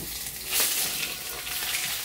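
Mushrooms and onions hitting hot oil in a pan: a sudden swell of close, hissing sizzle that settles into a steady crackling fry, with no voices.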